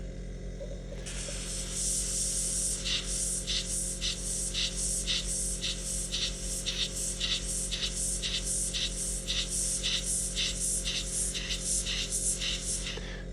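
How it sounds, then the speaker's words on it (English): Airbrush hissing paint onto a Revell 1/72 scale Star Wars model, a steady close spray with quick rhythmic pulses as the trigger flicks on and off to build mottling and streaks, no voices. "You can sort of dance the airbrush around and create mottling and streaks"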